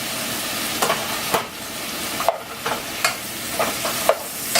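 Shrimp and vegetables for chop suey stir-fry in a hot pan, a steady close sizzle broken by repeated scraping stirs at irregular intervals, with no one speaking.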